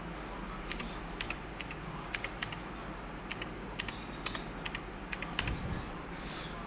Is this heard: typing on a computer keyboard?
yes